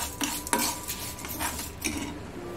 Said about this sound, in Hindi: अब हम गैस मीडियम फ्लेम पे रखेंगे और इसे अच्छे से हिला लेंगे